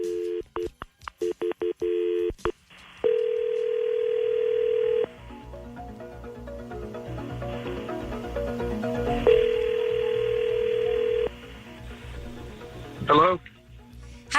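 Ringback tone on an outgoing telephone call: quick dialing beeps, then two long steady purring rings separated by a pause, with faint background sound in between.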